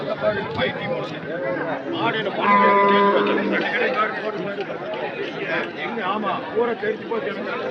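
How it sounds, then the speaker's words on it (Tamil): Dairy cattle at the Anthiyur cattle market on a Sunday, with one clear drawn-out moo rising mid-clip amid constant nearby talking and crowd chatter. "மாடு"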